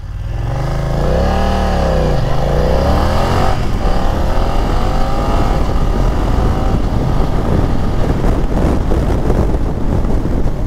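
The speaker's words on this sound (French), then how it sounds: "on va se faire un petit départ arrêté ici, avec le shifter" A BMW F 900 XR motorcycle launches from a standstill with a quickshifter: the engine revs climb, dip briefly through quick gear changes, then drone under heavy wind rush as it speeds away.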